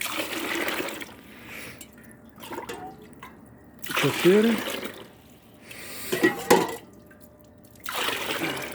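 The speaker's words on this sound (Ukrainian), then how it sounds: "і додаємо 5 літрів води" Warm water pours in several separate bursts into a 10-litre bucket to soak dry granulated beet pulp, splashing close and loud between pauses while a voice counts aloud.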